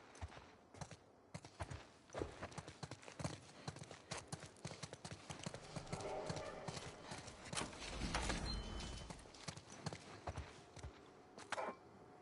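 Horse hooves clip-clop steadily on hard ground, several animals moving together, with a brief whinny and rustling amid the rhythmic hoofbeats, in the video game The Last of Us Part II Remastered.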